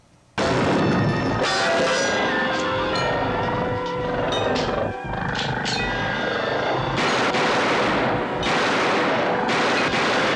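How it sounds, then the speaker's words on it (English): Gunfire in an action scene from a 1960s Voyage to the Bottom of the Sea TV episode: a sustained, loud barrage of sharp cracks and booms over dense rumbling noise, with no voices. "Please don't tell me he shot Kowalski"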